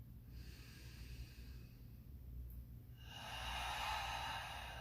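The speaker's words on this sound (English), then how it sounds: "Take another big full deep breath here." Deep breath taken during a standing yoga flow, a soft airy exhale that swells into a louder, breathy rush near the end, heard alone and close.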